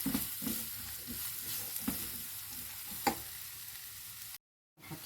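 Peppers sizzling in hot oil after softened onions, with a spoon scraping and stirring the pan in irregular strokes; steady frying hiss up close, cut by a brief silence near the end.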